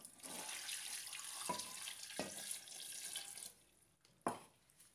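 Two glasses of water pour steadily into a cooking pot with a hissing splash for a few seconds, then stop; a couple of light clinks and a brief final splash follow.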